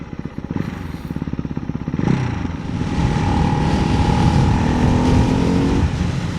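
A Ducati Hypermotard 698 Mono single-cylinder motorcycle rides past close by, its engine pulsing rapidly and then rising into a loud, sustained drone with climbing revs and a strong onboard roar.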